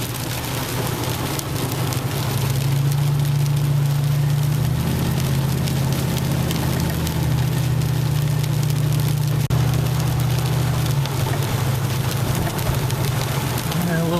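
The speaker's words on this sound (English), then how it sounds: "the rain's still steady, just not heavy like it was" Steady rain falls on a moving car during a micro-burst wind storm over flooded streets. The even hiss of rain lasts throughout, with a low engine drone underneath and no voices.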